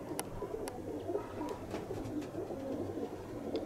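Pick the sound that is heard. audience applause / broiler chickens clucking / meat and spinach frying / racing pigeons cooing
racing pigeons cooing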